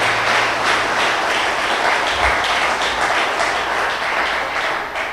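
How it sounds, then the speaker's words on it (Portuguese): A church congregation applauds during a Sunday worship service, steady dense clapping filling the room at a constant loud level, with a brief low thump partway through. "pode aplaudir o nome do Senhor"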